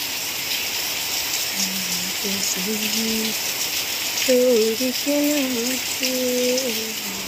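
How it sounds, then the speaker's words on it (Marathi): Heavy rain falling in Devrukh, Ratnagiri, a broad steady wash of noise filling the whole stretch, while a voice speaks and hums in the foreground over it. "आज म्हणजे खूप असा पाऊस पडतोय"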